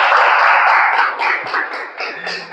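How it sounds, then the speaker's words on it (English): Applause from the audience at a Toastmasters club meeting for Toastmaster Akshay: a steady, loud burst of many hands clapping together that thins out and breaks into scattered claps toward the end. "can we have a round of applause for Toastmaster Akshay?"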